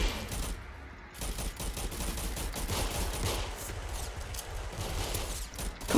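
Rapid gunfire fills a round of the Roblox Arsenal video game, with dense bursts of shots and mechanical clatter running almost continuously at moderate loudness for the whole stretch, no voices over it.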